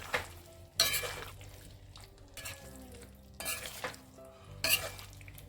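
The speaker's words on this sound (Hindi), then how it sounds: "अभी इसे अच्छे से मिक्स कर लेते हैं" Potatoes with salt and turmeric being stirred in a pan, giving several bursts of scraping and clatter at a steady pace under a low sizzle, fairly close.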